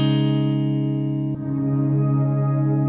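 An electric guitar runs through a Walrus Audio Sloer reverb pedal set fully wet, so only a lush, sustained reverb drone of chord tones is heard, with a shift to a new swelling wash partway through.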